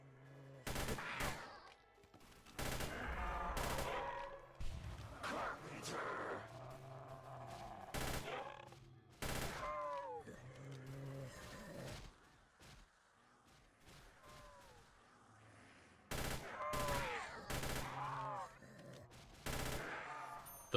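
Fully automatic gun in Roblox Project Lazarus firing in repeated loud bursts of rapid shots, separated by short pauses, with metallic action sounds between volleys.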